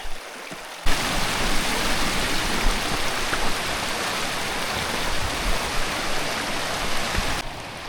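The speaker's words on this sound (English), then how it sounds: "A lot of water here." Backcountry stream water rushing loudly and steadily along a rocky trail in the Banff wilderness, a dense continuous roar that swells in abruptly and fills the scene without pause, close at hand with no voices.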